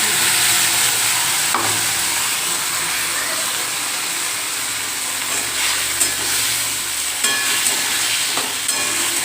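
Ground spice paste frying with potatoes in a pan, making a constant loud hiss and sizzle nearby, broken by occasional clicks and scrapes of stirring.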